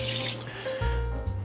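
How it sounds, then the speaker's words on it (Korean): Steady rush of water pouring from a gooseneck kitchen faucet with a waterfall spray mode into a scratch- and noise-resistant sink bowl, a continuous close, even flow that shifts slightly in tone partway through. "여기 보이시는 수전은 폭포 수전이 되는 거위목 수전으로 넣어드렸습니다"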